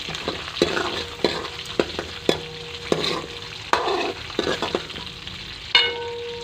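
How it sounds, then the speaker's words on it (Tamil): Onion, green chilli and curry leaves sauté in hot oil for a ridge gourd stir-fry, crackling and sizzling up close while a spatula scrapes and knocks against the pan in quick, repeated strokes, with no voices. "அது கூட வெங்காயம் மிளகாய் கறிவேப்பிலை மூணையும் சேர்த்திக்கலாம் அதை நல்லா வதக்கிடலாம்"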